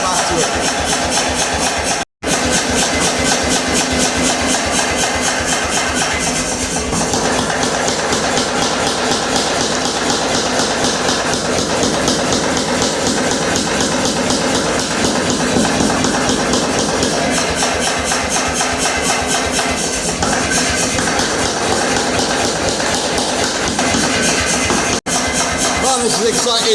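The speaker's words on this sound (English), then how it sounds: "that's that easy with the big power hammer" A big mechanical power hammer pounds steel while forging a splitting axe, a continuous loud rapid hammering with a running motor drone throughout, briefly cutting out once near the start.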